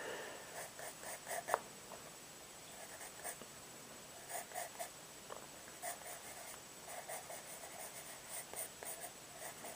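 A pencil sketches the tail of Derpy Hooves, a pony, in light, sketchy strokes. The soft scratching comes in faint, intermittent bursts against a quiet room.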